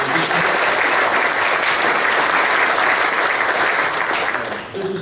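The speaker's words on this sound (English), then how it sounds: "One more round of applause for" A conference keynote audience applauds conference volunteers, with loud, dense, sustained clapping from a large crowd that holds steady and then fades near the end.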